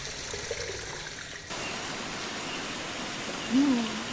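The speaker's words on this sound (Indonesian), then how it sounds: "Air terjun Subarondong ini memiliki ketinggian 84 meter dan berada di atas ketinggian 1135 mdpl." The Coban Rondo waterfall in Pujon, Malang, 84 metres high, pours as a constant broad rushing roar that fills the scene, with a faint voice briefly heard over it.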